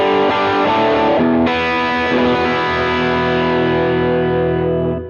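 An electric guitar through an 808 overdrive pedal rings out chords with a warm, crunchy drive, then lets a final chord sustain and fade.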